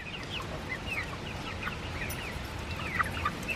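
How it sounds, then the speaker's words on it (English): A flock of chickens clucks and chatters continuously in their coop, many short overlapping calls over a steady background hum. "Hello, chickens!"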